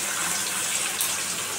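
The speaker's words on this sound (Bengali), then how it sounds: "কেটে রাখা ছানার টুকরোগুলো সুন্দর মতো ভেজে নিতে হবে।" Turmeric-and-salt-coated chhana pieces fry in hot oil, a dense steady hiss and sizzle close up and unbroken throughout.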